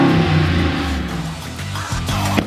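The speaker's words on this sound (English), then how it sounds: "Let's listen to that Mopar roar." Dodge Ram with a sports exhaust, cutout mufflers and twin black tips, a loud, deep revving roar that fades and then surges again in short bursts near the end, with no voices.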